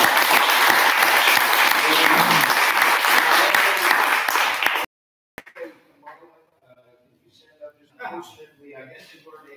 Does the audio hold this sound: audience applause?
yes